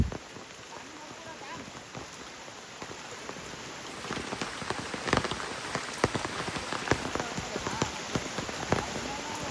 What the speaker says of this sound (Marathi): पाऊस पडतोय काय दिसत नाही.